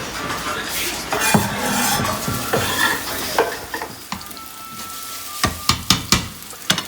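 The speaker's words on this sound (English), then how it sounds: "So the idea is to toast this garlic just a little bit." Sliced new garlic and chili toast in oil in a pan for spaghetti aglio, olio e peperoncino, giving a steady sizzle under repeated scraping and sharp clinks of a utensil against the pan.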